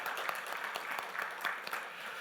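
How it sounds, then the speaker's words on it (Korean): A church congregation gives soft, steady applause at a Sunday service, a faint continuous patter of many hands with a few sharper claps. "함께 박수하겠습니다"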